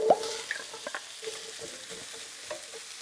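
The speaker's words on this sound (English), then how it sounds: "So we'll add those hard vegetables" Hard vegetables tossed into a frying pan for antelope curry, giving a steady close sizzle with a few stirring scrapes and soft plops, no talking.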